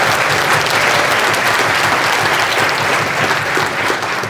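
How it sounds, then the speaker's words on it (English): An audience at a Young Workers Conference applauds steadily, a dense wash of clapping that stays loud and even throughout, with no talking over it. "Please give them an applause"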